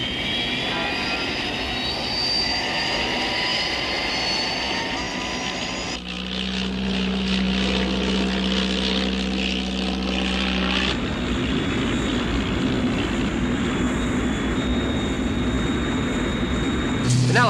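Aircraft engines from the 1968 film Thunderbird 6 drone loudly and continuously, the roar changing character partway through as the engines shift in pitch and power.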